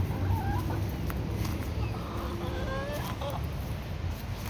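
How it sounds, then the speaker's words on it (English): Backyard chickens in a spring garden clucking softly amid steady outdoor background noise, a few short calls scattered over several seconds. "Hey chickens."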